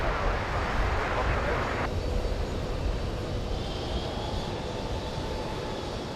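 A Virgin Atlantic airliner takes off at JFK, a steady loud engine roar holding throughout, with a voice speaking over it.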